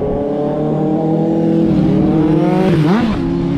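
A motorcycle engine revs steadily and loudly on a ride along the Infanta loop, its pitch climbing then dipping near the end, with no voices.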